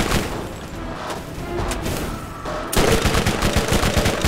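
An SMG with a twisted barrel fires in Borderlands, first scattered shots and impacts, then a sudden rapid, loud stream of automatic fire with a fast, even rhythm.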